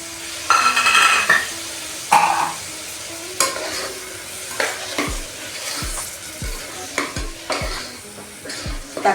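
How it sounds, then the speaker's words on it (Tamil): Medium tomatoes go into a frying pan for prawn macaroni, setting off sizzling, while a spoon stirs and clatters against the pan in irregular knocks and scrapes. No voices are heard. "இப்போ வந்து தக்காளி போட போகிறேன். மீடியம் சைஸ் தக்காளி 2."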